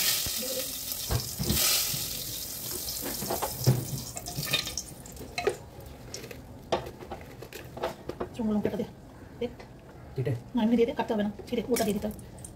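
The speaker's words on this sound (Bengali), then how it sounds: "গোটা জিরে, তেজপাতা, শুকনো লঙ্কার ফোড়ন দিচ্ছে।" Whole cumin, bay leaves and dried red chillies tempered in mustard oil, sizzling loudly at first and then fading under a voice, with clattering stirs and running water.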